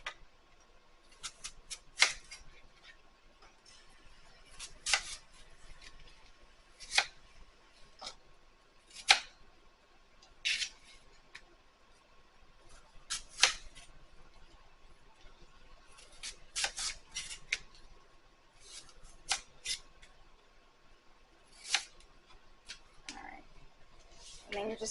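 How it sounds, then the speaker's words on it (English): Apples are cut for a coconut fried apple recipe, making sharp, spaced knife taps and crunchy chops against a board, close and fairly faint, with a voice speaking between the cuts. "So now you're going to cut your apples."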